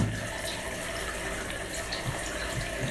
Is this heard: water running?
yes